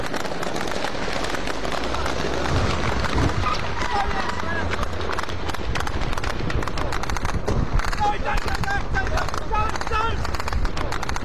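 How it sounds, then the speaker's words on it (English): Heavy gunfire from a 20mm anti-aircraft cannon in Tripoli fires in dense, rapid bursts of sharp cracks that go on throughout, loud and chaotic, with shouting voices mixed in. "We saw a 20mm anti-aircraft cannon firing directly into the front of our convoy."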